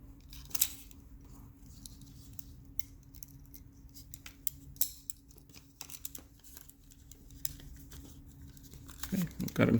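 Snipping the excess ends off zip ties with cutters during an Innovate gauge install, giving a few sharp clicks amid close handling rustle and clatter.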